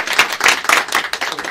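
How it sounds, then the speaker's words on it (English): Audience applause for a panel at a veterans' stories event, a short steady burst of many hands clapping close by. "join me in a round of applause for John and our panel."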